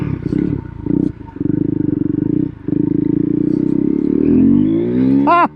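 A Husqvarna Svartpilen 401 motorcycle with an aftermarket exhaust pipe revs loud and close, its pulsing note broken by short gaps between gears, then climbing sharply in a final rising rev.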